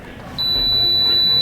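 A small hidden prank device starts a single loud, sustained high-pitched electronic beep that holds steady after a quiet start, over faint background hiss.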